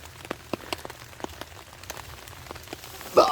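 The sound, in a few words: rain falling on camp tarp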